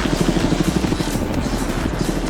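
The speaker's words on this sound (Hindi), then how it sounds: "ये हेलीकॉप्टर हमारे बॉयज को ऊपर हवा में ले जाएगा" Helicopter flying over the sea near a private island, a loud close rotor chop beating rapidly and steadily with engine roar beneath.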